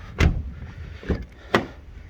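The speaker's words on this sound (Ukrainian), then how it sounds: "Підлокітник відкривається для підлижі чи для перевезення вантажу" The armrest lid in a 2016 Volkswagen Golf VII Comfortline 1.6 diesel opens and shuts, three distinct close thumps and clicks spaced over about two seconds in a quiet cabin.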